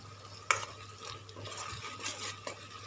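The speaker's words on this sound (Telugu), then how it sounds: "ఇది కూడా బాగా బ్రౌన్ కలర్లో మనం వేయించుకోవాలి అప్పుడే మనకి బాగా మంచి కలర్ వస్తుంది ఇలా కలుపుతూ ఉండాలండి మనము" Ingredients for egg masala curry being stirred in a pan, with a sharp clack of utensil on metal near the start and soft scraping and faint frying sounds continuing underneath; no voices.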